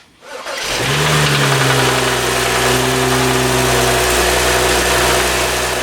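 A 2012 BMW E93 335i cranks briefly and catches, then settles into a loud, steady idle with a smooth, even hum that continues close by for several seconds, heard alone without talk.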